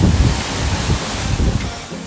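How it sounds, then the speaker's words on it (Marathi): Water tumbling over rocks at Nhavankond waterfall near Devgad in Konkan: a steady, close rushing wash with a low rumble, roughened by gusts of wind on the microphone. "दगडधोंड्यातून खळखळ वाहणाऱ्या आणि निसर्गनिर्मित तयार झालेले हे उंचावरून पडणाऱ्या पाण्याचा मंजूळ ध्वनीचा मनमुराद आस्वाद घ्यायला मी आज येथे आली आहे"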